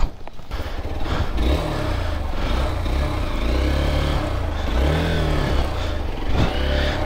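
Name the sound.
motorbike engine revving while off-roading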